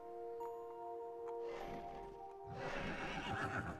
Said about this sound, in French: Ah, il y a un cheval là.